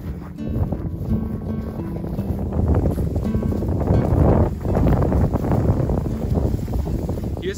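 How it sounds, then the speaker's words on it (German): Wind blowing hard outdoors on a rural plot of land in Russia near a river, a loud continuous rumble of gusts buffeting the microphone for the whole stretch. "Hier ist es jetzt ein bisschen windiger."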